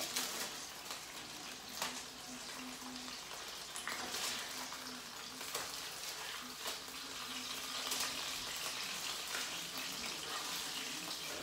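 Meat sizzles steadily in a hot pan, a soft hissing wash broken by occasional sharp pops and spatters. No voices are heard.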